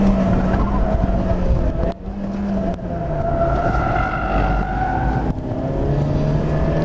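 A car at the Kota mini circuit skids and squeals its tires through corners, with sustained tonal tire squeal over engine noise that rises and falls across several slides, fairly close.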